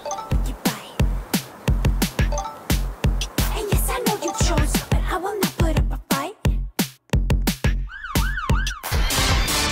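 Ambulance siren in the Roblox game Brookhaven, a rising and falling wail that sounds clearly near the end after a stretch of rhythmic thumping sounds.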